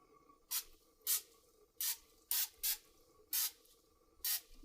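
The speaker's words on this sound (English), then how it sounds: "spray them with a little bit of cooking spray" Seven short bursts of cooking spray, each a quick hiss, spaced irregularly over a quiet background with a faint steady hum.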